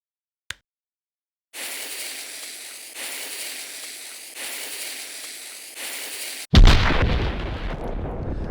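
Bomb explosion effect from an indie video game: a hissing fuse burns steadily for several seconds in short repeating stretches, then a loud, sharp blast erupts and rumbles as it decays.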